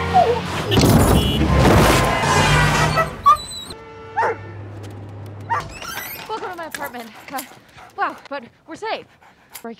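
A dog gives a few sharp barks and whimpers amid a noisy party scene, with people talking and shouting loudly over it and calmer speech following.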